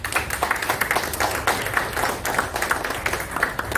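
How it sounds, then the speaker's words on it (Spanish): Audience at a book fair presentation of a new novel clapping, a sustained round of applause from a mid-sized crowd, steady and fairly close, without talk. "Luis Salazar Orsi, para que pida un fuerte aplauso."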